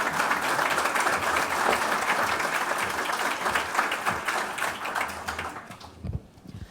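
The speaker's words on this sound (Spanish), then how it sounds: "La recibimos con un fuerte aplauso, por favor" A hall audience gives sustained applause to welcome a government minister at a formal event, with dense, steady clapping that fades near the end as a sharp knock sounds.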